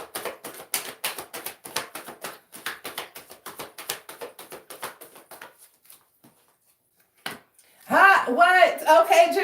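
Cards riffle and tap in quick bursts of soft patter, pausing briefly before a voice begins speaking.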